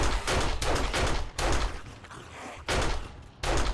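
A hoop gun in 7 Days to Die fires in about five loud, close bursts of rapid shots separated by brief pauses.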